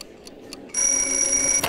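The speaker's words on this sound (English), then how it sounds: "Wrong ringtone." A video game phone ringtone starts abruptly and holds a bright, steady high electronic tone for about a second before cutting off, loud and close.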